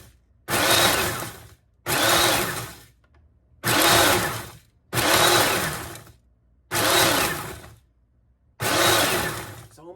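A food processor pulses onions being ground into onion powder, six loud whirring bursts of about a second each separated by short silences, in an even on-off rhythm close by.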